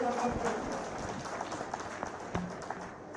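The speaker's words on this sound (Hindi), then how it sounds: "तो मैं निवेदन करता हूं कि जोरदार तालियां बजा करके उनका स्वागत करें" A crowd at a Prabuddh Nagrik Sammelan gathering in Kaithal gives steady, continuous applause to welcome Chief Minister Pushkar Singh Dhami, heard somewhat distant and moderately quiet throughout.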